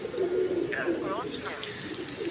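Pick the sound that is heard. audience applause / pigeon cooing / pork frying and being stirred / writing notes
pigeon cooing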